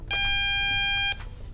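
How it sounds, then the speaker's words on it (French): A Diagral wireless alarm control panel gives one long, steady confirmation beep lasting about a second, loud and clear with nothing else over it. "La centrale confirme par un bip long."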